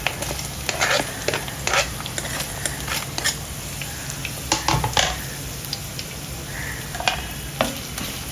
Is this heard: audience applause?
no